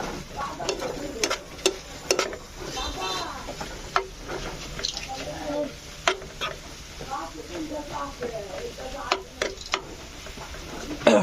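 Coconut pitha frying in a pan, soft sizzling under sharp scraping and stirring clicks of a utensil against the pan, with intermittent talk nearby.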